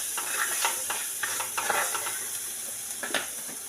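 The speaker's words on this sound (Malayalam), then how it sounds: "മഞ്ഞൾപ്പൊടി ചേർത്ത് നല്ലോണം ഇളക്കി കൊടുക്കാം." Turmeric powder is stirred into frying ginger pickle in a pan, giving a close, continuous sizzle with repeated scraping stir strokes at an uneven rhythm.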